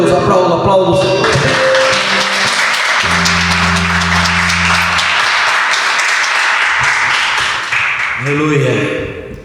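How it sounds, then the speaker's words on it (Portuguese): A church congregation applauds during a Portuguese worship service, loud continuous clapping mixed with sustained organ or keyboard tones and some voices, the clapping fading near the end as a voice returns. "Glória a Deus, aplauda o Senhor"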